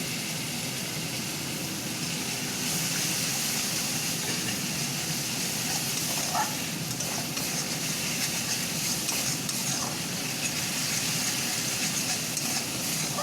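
Cabbage frying lightly in oil for a cabbage paratha filling gives a steady, close, even sizzle and hiss that runs unbroken for the whole stretch, with no voices.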